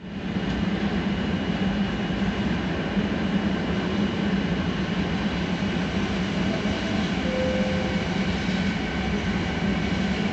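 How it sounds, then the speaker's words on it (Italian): A train runs through platform 1 of an Italian station in Veneto, a loud, steady rumble and rush of wheels on rail that stays close and constant for the full stretch, with no voices. "Treno in transito al binario 1."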